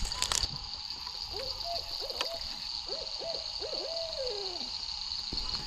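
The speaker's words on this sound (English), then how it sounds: "there's an owl" An owl hoots repeatedly outdoors at night, a series of low, wavering calls in quick succession at moderate distance over a constant high insect-like hum, with a brief knock at the start.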